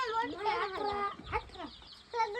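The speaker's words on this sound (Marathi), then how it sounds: "हे सगळा पिल्ल्याचा कोंबडा आहे." Close chickens cluck and a rooster gives short harmonic calls in quick succession, fairly loud and up front.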